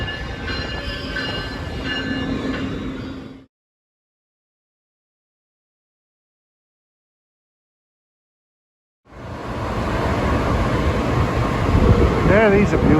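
A SEPTA push-pull commuter train rumbles close by with wheel squeal and hum, broken by a long silent gap before the rolling noise resumes, with people talking.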